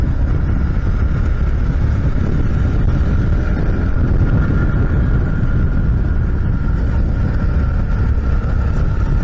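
Steady, loud rumble of a motorcycle riding along a coastal road near Arromanches-les-Bains, heavy wind buffeting the microphone throughout with a constant engine drone underneath, no speech.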